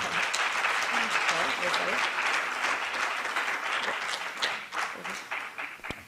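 Audience applause at a film archives gathering, a steady sustained wash of clapping from a crowd in a hall that runs for several seconds before tapering off.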